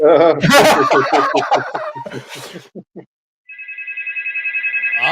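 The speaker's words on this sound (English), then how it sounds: "I have an incoming phone call." A voice makes gobbling, turkey-like noises, then after a brief pause a phone rings with a steady electronic tone that pulses and grows louder.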